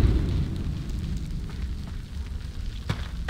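Fire in the Dark Messiah of Might and Magic game, a close, dense low rumbling roar with scattered crackles and one sharper pop near the end, no voices.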